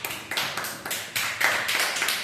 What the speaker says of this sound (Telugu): Claps please.